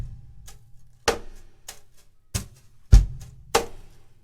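Brushed cajon groove with a bass tone added, alternating soft brush swishes and deeper thumps in a steady, even pattern, played close and moderately quiet with no talking.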